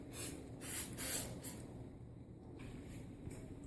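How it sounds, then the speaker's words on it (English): Several short, quiet hissing sprays of non-stick cooking spray onto a pan in quick succession, close by, followed by a low steady background hum. "And just spray it all over to get all the sides and everything covered."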